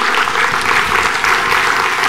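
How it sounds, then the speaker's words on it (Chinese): A crowd at a Buddhist temple ceremony in Seattle claps loudly and continuously, a dense wash of many hands close and sustained throughout with no talking. "让我们以热烈的掌声感谢根本传承上师加持同修圆满吉"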